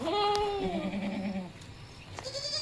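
A Kathiyawadi goat that has just given birth to two kids bleats once in a long wavering cry, fairly close, followed by quieter animal sounds and faint background noise.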